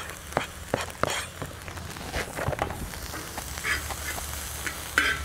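Butter and chopped green onions sizzle on a plow disc grill while fried rice is cooked, a moderate crackling hiss broken by scraping stirs and clanks.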